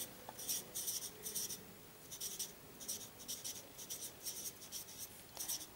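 Pen writing a math answer statement by hand on paper, soft rhythmic scratching strokes in short bursts, close and quiet, steady throughout.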